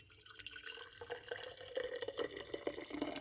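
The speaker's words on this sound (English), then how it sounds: "And then in my jar, I'm going to pour the water." Hot water poured from a kettle into a jar for steeping, a soft, continuous splashing and gurgling stream, faint and close, with no voices.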